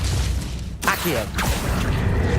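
Accio summoning spell in Hogwarts Legacy, heard as a sudden whooshing burst followed by a second swept pull a half-second later, mid-loud over steady game background.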